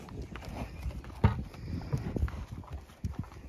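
Hooves clip-clop on hard ground in irregular steps, fairly close, over a soft background of rustling noise.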